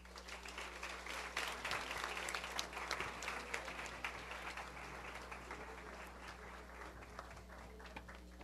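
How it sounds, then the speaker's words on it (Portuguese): An audience at a philosophy café event applauds to welcome historian Peter Burke to the stage, sustained clapping heard fairly faint over a steady low electrical hum. "Vamos receber com um aplauso de boas-vindas?"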